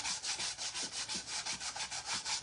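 A power sander grinding across wood with a continuous, close abrasive hiss that pulses slightly as it is pushed back and forth.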